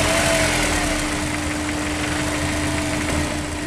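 A turbocharged car engine with a blow-off valve idles steadily and loudly close by, with a constant low hum, vibration and a faint rising whistle.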